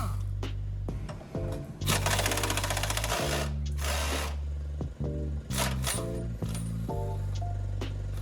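An impact wrench works on body bolts of a 1996–2002 Toyota 4Runner during a body lift, firing loud, close bursts of rapid hammering with short pauses between them.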